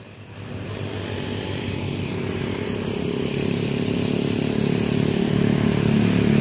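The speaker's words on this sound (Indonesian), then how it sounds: "ciri khasnya knalpot kanter-kanter ya" A motorcycle with a loud aftermarket exhaust at a bus terminal gives off a rough, buzzing engine roar that swells steadily louder as it approaches or revs over several seconds, with no talking.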